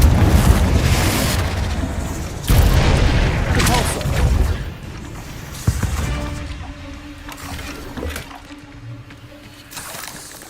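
In Hogwarts Legacy, a Confringo blasting spell is cast in combat, giving heavy booming blasts with rumbling low thuds that fade into a quieter tail.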